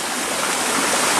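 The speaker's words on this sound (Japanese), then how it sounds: "温泉の滝初めて見た。" Hot spring waterfall pouring steadily outdoors, a loud, dense, unbroken rush of falling water with no pauses or voices.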